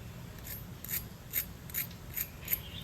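Crispy fried paneer and potato snack crackles as it is broken apart, with several short, faint crunchy snaps in an irregular rhythm over a quiet background.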